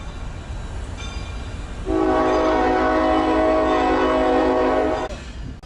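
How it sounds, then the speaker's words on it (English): A distant Norfolk Southern freight train horn across the Lehigh River sounds one steady, sustained chord for about three seconds over a background rumble. "The horn you just heard is coming from this Norfolk Southern train across the Lehigh River."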